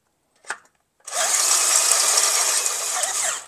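A short knock comes first, then a power drill spins up with a 3/8 bit and drills through a brake conversion part for a G-body with S10 Blazer pieces, a loud, sustained high whine holding for over two seconds.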